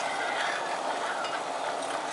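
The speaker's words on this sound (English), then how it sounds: "See, even stirring doesn't stop the boil." Boiling homemade maple syrup is stirred in a pot, making a constant close bubbling, frothy hiss that keeps rolling steadily under the stirring.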